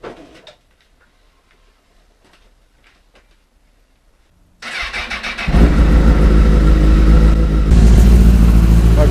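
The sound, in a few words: motorcycle engine starting and warming up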